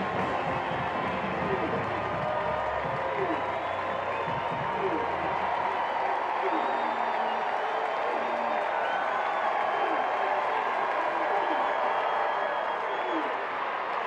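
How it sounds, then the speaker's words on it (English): A packed stadium crowd at a 2019 college football game between Alabama State and UAB roars on its feet, a loud, dense, steady wall of cheering and clapping that holds for the whole stretch without a break. "This crowd is up on its feet."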